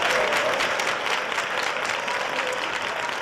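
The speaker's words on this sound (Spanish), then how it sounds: "vamos a enviar un fortísimo aplauso" Loud, dense applause on a radio show, a continuous crowd-like wash of clapping that holds steady for about three seconds without talk over it.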